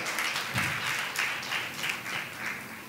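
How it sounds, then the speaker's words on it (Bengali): Audience applause at a music show, a steady patter of many hands clapping for a few seconds at moderate volume, without voices. "বিরাট হাততালি।"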